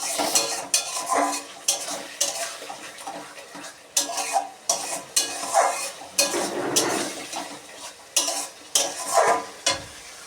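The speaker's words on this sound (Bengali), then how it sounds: "এবার মশলাটাকে ভালো করে কষাবো।" Spices sautéed in oil in a pan with chilli and cumin powder, with a steady sizzle under repeated scraping and clinking strokes of a metal spoon stirring in an uneven rhythm.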